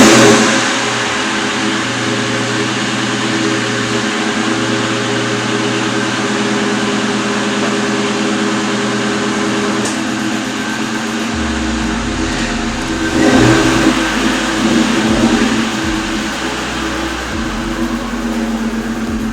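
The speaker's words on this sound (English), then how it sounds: "I guess I'll give you guys a little cold start" New Edge Ford Mustang GT V8 at cold start, loud and close, with a steady rumbling idle, then a deeper shift and a couple of revs that swell and settle back.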